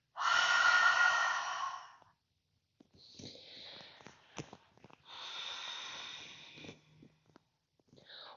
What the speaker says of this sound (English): Deep breath in. Let the breath surrender.